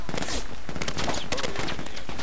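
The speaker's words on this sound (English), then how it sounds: "Whoa, I'm taking fire." Gunfire in the military shooter Project Reality, heard during an area attack: rapid bursts of rifle and machine-gun shots crack repeatedly at close to mid range, dense and loud, with overlapping reports.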